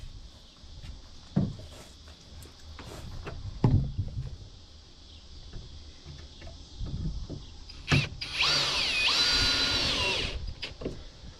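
Power drill driving small-head Torx screws into Cumaru Brazilian hardwood deck boards, with short bursts of whirring between quieter handling noises and a longer, louder drive toward the end.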